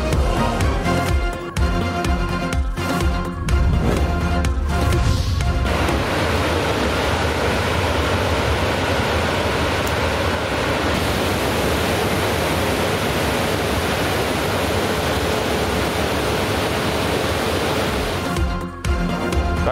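Floodwater surges through swollen rivers and streams after storm rains, a loud, unbroken roaring rush that fills the whole stretch, with some uneven bursts near the start and no voices.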